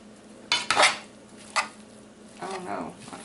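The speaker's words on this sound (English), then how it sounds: "And then you want to mix it all together." Utensil scraping and clinking in a bowl as potato salad ingredients dusted with paprika are mixed together, a few brief loud strokes around the half-second and one-and-a-half-second marks, then softer rustling stirring.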